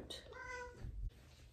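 A cat gives a single drawn-out meow, faint and indoors, ending in a short low bump, with no talk over it.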